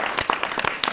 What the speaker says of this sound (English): Let's give ourselves a round of applause, everyone, for that fantastic contribution.